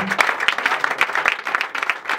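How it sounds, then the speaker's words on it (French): A church congregation bursts into loud, sustained applause, dense overlapping claps from a large crowd that keep a steady, slightly uneven rhythm throughout. "On va acclamer pour Jésus."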